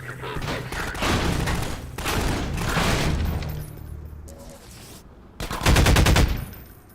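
Bursts of rapid automatic gunfire in a video game, loud and close, in several volleys with short pauses and a final heavy burst near the end.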